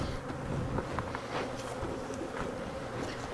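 Honeybees buzz in a steady, close drone at a hive being split into nucs using swarm cells, with no voices over the hum.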